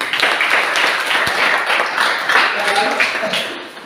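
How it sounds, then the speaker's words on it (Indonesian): A classroom of students claps for the first group after its presentation, a dense, steady patter of many hands that holds for a few seconds, loud and close, with voices mixed in. "kita berikan aplaus kepada kelompok 1"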